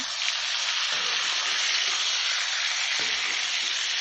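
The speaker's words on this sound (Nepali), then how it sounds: "यसरी हल्का कालो कालो भएपछि चाहिँ यसमा मासु राख्दैछु। मासुलाई चाहिँ चलाइदिने।" Chicken meat fries in hot oil in a pan and gets stirred for a chicken curry. It makes a loud, steady, dense sizzle, with a few soft scrapes from the stirring. No one talks.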